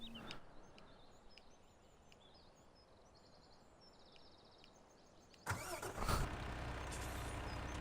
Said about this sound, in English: Just bring the lorry across.